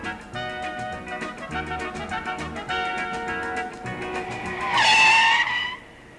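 Mercedes-Benz 250S (W108) braking hard on a test drive, a steady engine and road drone rising into a loud, high tire squeal and skid near the end, with no talk.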